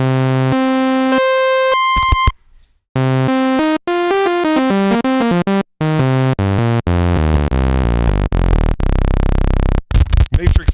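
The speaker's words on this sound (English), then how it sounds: "So this is the sound of the sawtooth on the JX-3P." A Roland JX-3P synthesizer playing its sawtooth oscillator, a loud, bright, buzzy tone stepping through sustained notes and quick runs, with a brief gap early on and no talking.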